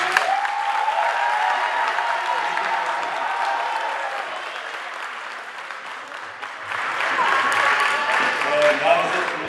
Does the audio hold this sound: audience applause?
yes